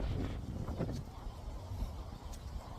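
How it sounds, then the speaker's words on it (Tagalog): Strong cold wind blowing outdoors, a steady broadband rush buffeting the microphone with low rumbling gusts throughout. "Lakas ng hangin."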